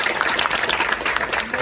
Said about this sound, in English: Let's give some claps to Tom.